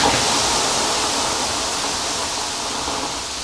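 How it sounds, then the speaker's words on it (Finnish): Water thrown onto a hot wood-fired sauna stove gives a loud, steady rushing hiss that fades slightly over a few seconds, close and continuous with no talk. "Heitetään vähän vettä."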